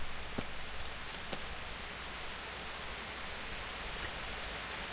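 Steady rain falls in the video game Kingdom Come: Deliverance, a constant even hiss of drops with no talk over it and a few faint brief ticks.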